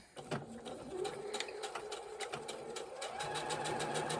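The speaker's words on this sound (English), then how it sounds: "we're going to stitch straight down using the same seam allowance we just used" A sewing machine stitches a straight seam on an oven mitt, its rapid, even needle clatter running steadily throughout, close and fairly loud, with a brief faint voice early on.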